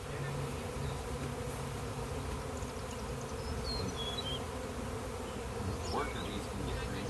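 A honey bee swarm hums in a dense, steady buzz close by, with individual bees droning past now and then over the continuous drone.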